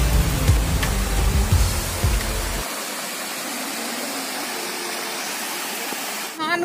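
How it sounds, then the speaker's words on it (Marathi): A clear stream swollen by monsoon rain rushes and gurgles near a bridge at Pargaon, a loud, steady wash of flowing water with muffled talk mixed in. "पाऊस हजेरी लावून गेला असल्यामुळे झऱ्याचं पाणी अगदी खळाळून वाहत होत।"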